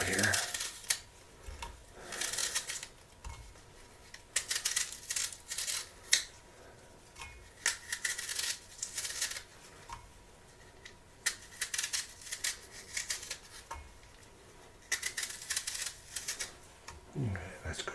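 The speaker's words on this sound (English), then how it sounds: "Just going to peel an apple here." An apple peeled in a home kitchen, with repeated scraping strokes in short bursts and pauses, close and crisp, over a faint background of soft voice.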